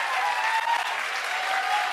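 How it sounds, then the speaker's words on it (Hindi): Classroom applause for a student selected in the SSC CGL exam, a continuous roar of many hands clapping, even and sustained across the whole stretch, with no speech over it. "जोरदार तालियां।"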